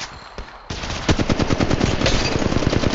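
Automatic gunfire in Apex Legends Mobile: a faint shot or two, then a sudden loud sustained burst of rapid, evenly spaced rounds that continues close and dense to the end.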